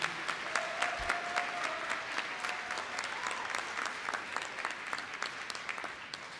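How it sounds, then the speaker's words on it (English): Applause at a university spring commencement ceremony for the College of Liberal Arts, honoring graduates' families: steady, moderately distant clapping from a large audience that holds evenly throughout. "will you help me in giving them a huge round of applause for all the support"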